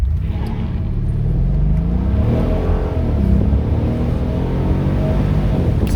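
A 2013 Mercedes SL550 Bi-Turbo with a passenger aboard accelerates hard from 0 to 60, its engine note loud and rising steadily in pitch with a deep rumble underneath, and no talking.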